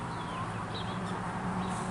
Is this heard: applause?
no